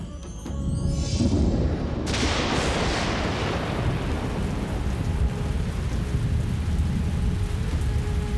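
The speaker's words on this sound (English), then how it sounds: "Sure was lucky it started to rain." Heavy rain in a jungle pours down in a dense, steady hiss after a sudden burst, with a low rumble underneath and no voices, from the 1994 animated series Street Sharks.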